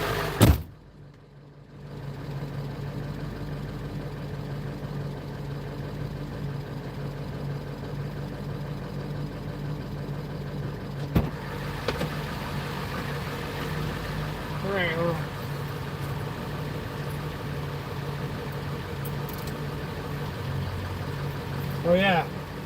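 A truck engine, started with a switch, idles steadily at a constant rumble for the whole stretch, close and fairly loud, with a couple of faint squeaks and a brief knock.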